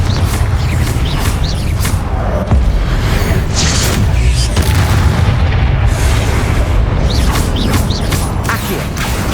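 Spell explosions from Hogwarts Legacy gameplay on PS5 make loud booming blasts and crashing bursts. They repeat over dense, continuous game action and rumble.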